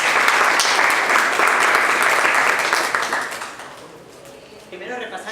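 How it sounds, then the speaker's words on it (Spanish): An audience at a panel session gives a speaker strong applause. The dense clapping swells, then fades out over a few seconds before a voice begins speaking. "Entonces la recibimos con fuertes aplausos a Leticia."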